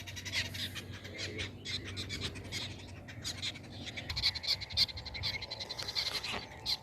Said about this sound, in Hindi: परिंदे खेल रहे हैं जी, अटकेलियाँ कर रहे हैं आपस में।